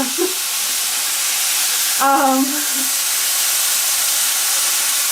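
Lemon juice sizzles in a hot frying pan, a steady loud hiss throughout with a brief voice sounding over it in the middle.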